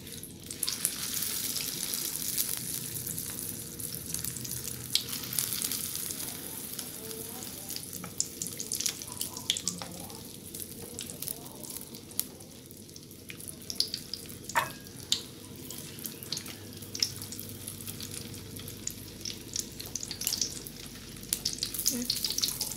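Beans and potatoes fry in a pan with a soft, steady sizzle and crackle, punctuated by light clinks and stirring sounds, fairly quiet and close.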